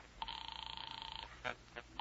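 A telephone rings during a call, a faint single trilling ring lasting about a second, followed by brief low sounds that may be voices.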